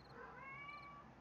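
A pet cat gives a single drawn-out, wavering meow, close and fairly quiet, with no voices over it.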